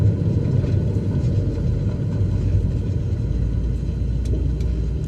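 A Cessna 172 touching down and braking on a runway in Microsoft Flight Simulator, a steady low engine and rolling rumble, loud and continuous, with small clicks near the end.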